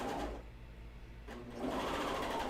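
A serger with its knife trimming fabric for sewing underwear whirs in two short motor bursts with a brief quieter pause between them, close and fairly quiet.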